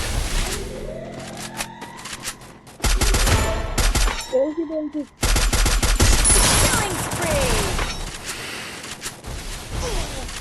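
Gunfire in the Free Fire video game crackles in rapid, loud bursts and volleys, briefly dropping out before resuming in dense repeated shots.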